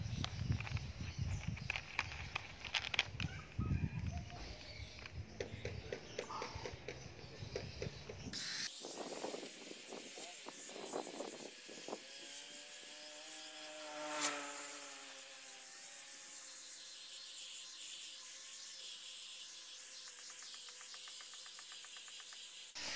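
Coarse P60 sandpaper is rubbed by hand over a house wall to strip blackened moss, giving steady scratchy, rasping strokes close by, with a few knocks and rattles and no talk.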